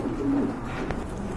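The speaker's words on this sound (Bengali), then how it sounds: "আরেক জোড়া কবুতর দেখেন" Domestic pigeons at a seller's stall, Bombay breed birds, give a soft, low coo that swells briefly and fades against a steady background murmur; no talking.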